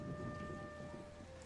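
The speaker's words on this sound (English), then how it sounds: "rain has begun to pelt upon the earth." Steady heavy rain with low thunder rumbling beneath it, part of the atmosphere in a flash visual novel game; a continuous, even wash of sound with no voices.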